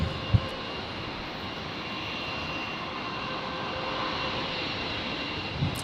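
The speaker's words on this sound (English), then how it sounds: "So another Qantas Link Dash 8 coming in now." A QantasLink Dash 8 turboprop touches down at Brisbane Airport, a steady, fairly distant broadband engine roar that holds even for several seconds, with a couple of faint knocks at the start and end.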